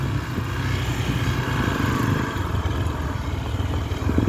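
A Hero Xpulse 200 motorcycle engine drones steadily up close, a continuous rumbling ride with no talking.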